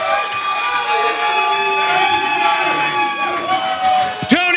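At a comedy club in Tacoma, the audience cheers and shouts in a loud sustained roar with whoops and scattered applause, swelling and then tailing off into a few sharp bursts at the end.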